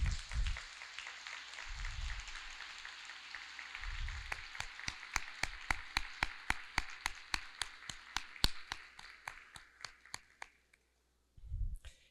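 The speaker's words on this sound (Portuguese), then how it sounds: "Palmas para os seus familiares." Clapping at a graduation ceremony, sparse and fairly distant, rising into a run of sharp, evenly spaced individual claps before fading out, with low thumps in between and a short gap near the end.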